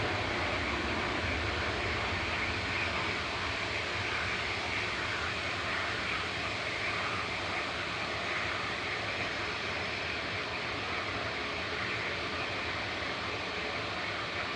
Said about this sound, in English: There's a noise of Ryanair in the background coming in from Belfast.